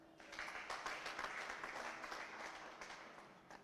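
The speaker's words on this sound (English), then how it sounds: "Why wouldn't we clap for that?" Parliament audience breaking into applause, a dense wash of many hands clapping at moderate distance, steady for a few seconds with no voices over it.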